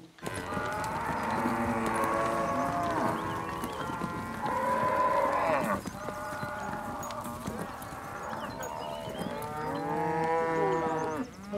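Recipient cows of a common breed carrying Girolando embryos, on an industrial farm, moo loudly and repeatedly from close by, several long overlapping calls filling the whole stretch with no talk.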